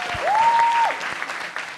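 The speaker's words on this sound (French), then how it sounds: "On applaudit, s'il vous plaît." A live audience at the Frames Festival show breaks into a loud burst of applause, with a short rising whistle near the start, then the clapping tapers off.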